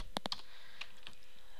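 Keystrokes on a computer keyboard while entering text into a web form: a quick burst of three or four sharp clicks, then two more isolated taps, close and fairly faint over a quiet room hiss, with no talking.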